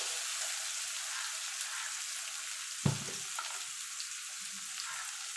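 Onions frying in hot oil give a steady, even sizzle throughout, broken once by a single dull knock midway.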